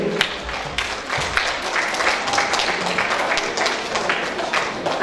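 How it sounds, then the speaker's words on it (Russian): A school audience claps at an intercultural awareness week event, a dense, slightly uneven round of applause with a few sharper individual claps. A voice can be heard faintly beneath it. "Ваши аплодисменты."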